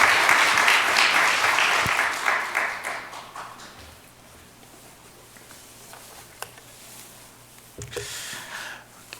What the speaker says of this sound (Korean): 우리 잘 다녀오라고 우리 박수하도록 하겠습니다.